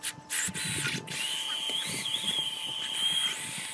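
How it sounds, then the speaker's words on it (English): A hammer drill whirs steadily at high pitch drilling into brick, with short bursts at the start and a constant grinding tone. "we used a hammer drill to pre-drill into the brick and then attach the boards"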